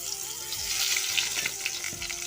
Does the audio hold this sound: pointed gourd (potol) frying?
yes